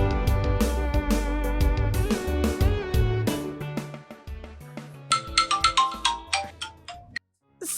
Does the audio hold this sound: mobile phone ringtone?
yes